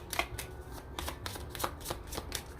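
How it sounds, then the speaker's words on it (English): Tarot cards being shuffled by hand, a series of crisp riffling flutters and soft slaps in an uneven rhythm, close and fairly quiet with no talk. "but I'm gonna keep shuffling"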